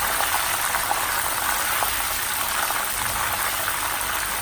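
Kerala banana chips fry in hot oil, giving a dense, steady bubbling sizzle that stays even and unbroken throughout, with no voices.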